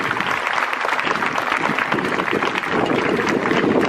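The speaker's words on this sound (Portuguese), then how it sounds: "Uma salva de palmas para o grito dos excluídos." Dense crowd applause at an outdoor Grito dos Excluídos rally in Sobral, a loud, continuous wash of many hands clapping at once, unbroken and without voices.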